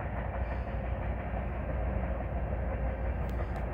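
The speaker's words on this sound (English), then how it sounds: "the local train heading southbound. Taking some ballast hoppers to the Bradley train yard in Champaign." A freight train led by an IC SD70 and a CN SD70M-2, hauling ballast hoppers, rumbles past close by, steady heavy roar with clattering wheels on rails and a faint high squeal near the end.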